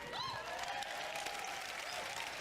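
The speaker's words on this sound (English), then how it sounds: "I'm actually applauding to this." A person applauding during a podcast, a steady patter of clapping that runs the whole time, fairly faint, with a brief whistle-like tone drifting over it.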